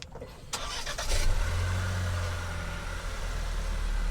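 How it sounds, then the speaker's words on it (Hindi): Changan Oshan X5 2022 push-button start: a quick starter crank catches and settles into a steady, quiet idle, heard close inside the cabin. "so let's start the car"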